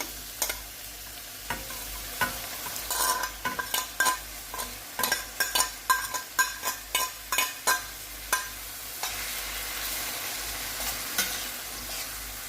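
A vegetable and cheese filling fries in a little oil in a pan, with a steady sizzle under repeated scraping and stirring strokes and occasional clinks of the utensil against the pan.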